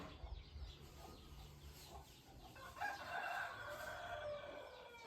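A fighting rooster crows faintly in the distance, a drawn-out call over quiet background noise, with no voices.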